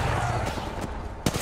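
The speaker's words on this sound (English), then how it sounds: "I'm getting shot at help." Gunfire in Apex Legends, a few sharp shots and short bursts over a busy, noisy background of fairly close combat.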